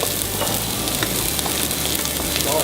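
Food cooks on a barbecue at a campsite with a loud, steady sizzle and fine crackle, close up and continuous, with no talk over it.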